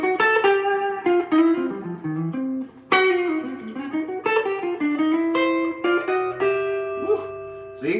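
An electric guitar plays a quick melodic lick of sustained notes and slides, with a slightly effected tone, no voices.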